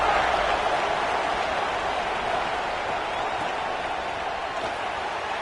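Home crowd cheering at a college football kickoff, LSU at Notre Dame in a video game, a broad, steady roar of distant voices and applause that holds evenly throughout.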